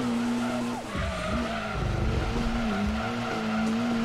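In Gran Turismo 2, a car slides with sustained tire squeal over a steady engine drone, the squeal wavering in pitch as the car skids and recovers, loud and close.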